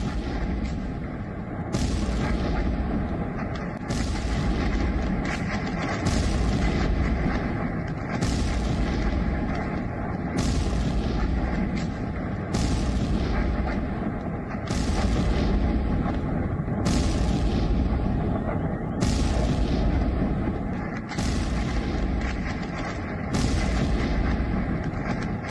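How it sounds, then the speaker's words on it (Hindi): A Russian multiple rocket launcher attack strikes Mykolaiv, Ukraine, with loud, heavy artillery booms. They repeat at a steady rhythm of roughly one every two seconds over a constant roar of background noise. "यूक्रेन निकोलेव में रूस का बड़ा हमला सामने आया है। मल्टीपल रॉकेट सिस्टम से रूस का हमला सामने आया है"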